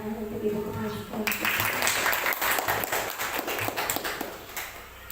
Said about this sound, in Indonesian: Alangkah baiknya kalau kita memberikan tepuk tangan untuk Ibu Kepala Sekolah.